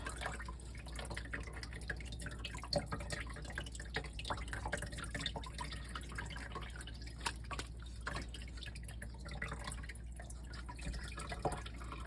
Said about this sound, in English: we're gonna let it kind of drain through the holes in the colander